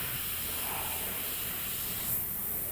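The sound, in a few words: airbrush spraying paint through a 0.35 nozzle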